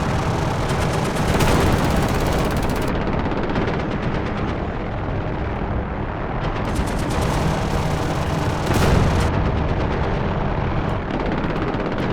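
Continuous, dense automatic gunfire from friendly ground units in the DCS combat game on a Cold War Germany map, loud and sustained with overlapping bursts and heavier surges throughout, no voices.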